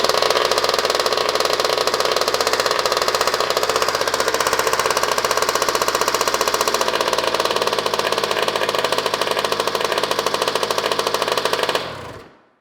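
A cheap, worn dirt bike engine runs steadily after a kick start, with a loud, rapid, even putter that cuts off sharply at the end.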